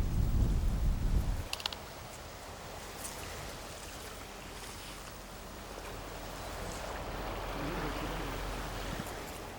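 Ocean waves and wind on an uninhabited lighthouse island give a soft, distant, continuous wash of surf and wind, after a brief louder low rumble at the start.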